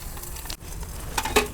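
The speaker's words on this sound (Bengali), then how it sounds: "অমলেট ভাজি" An omelette sizzles and fries in a pan while being cooked at an outdoor picnic, a steady close crackle with a few sharper spits and pops near the end.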